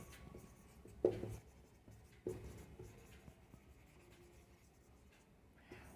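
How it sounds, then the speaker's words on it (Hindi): Chalk or marker scratching across a board as prime numbers are written out during a maths lesson, with a few louder strokes standing out over soft, steady room noise. "तो यहाँ पर लिख देते हैं हम प्राइम नंबर्स"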